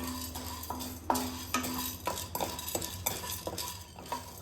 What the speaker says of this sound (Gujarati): આ રીતે આપણે એને હલાવતા જ રહેવાનું છે.